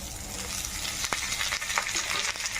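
Bottle gourd leaves frying in a pan: a close, steady sizzle of hot oil is broken by several sharp scraping strokes from stirring.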